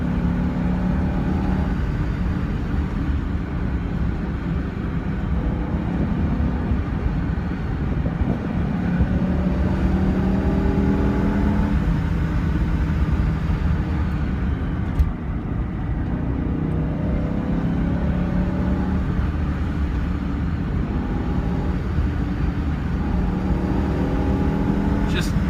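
A BMW E60 M5 engine pulls hard on a mountain road, a steady loud roar that climbs through the revs with a brief shift break midway, heard from inside the car.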